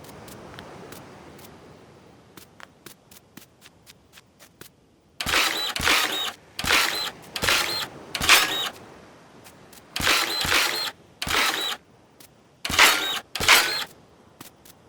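A soil printer in the Dinkum video game puts out a series of short mechanical bursts, about eight clipped, bright pulses in irregular pairs, after soft scattered clicks and ticks, all close and without talking.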